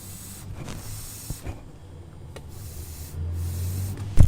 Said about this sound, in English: you could hear some air leaking out when I move it like that